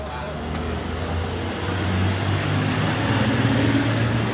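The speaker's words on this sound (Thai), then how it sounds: "เสียงแบบเสียงรถยนต์อาจจะเสียงดังนิดนึงนะคะทุกคนเพราะว่าร้านอยู่ติดริมถนน" Road traffic beside a roadside restaurant in Bangkok forms a steady, loud, close rumble of passing cars and engines that swells slightly toward the end.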